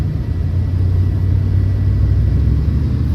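A truck engine rumbling low and loud as it tries to move trailers through snow, a steady heavy drone with a slight surge at the start and no talk over it.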